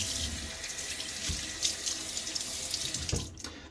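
Tap running with cool or tepid water into a sink for rinsing after a shave, a steady close rushing splash with small fluctuations, alone without talking.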